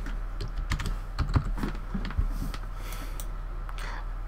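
Close, quick bursts of typing on a computer keyboard, with irregular clicking keystrokes over a steady low hum from a Windows 8.1 computer.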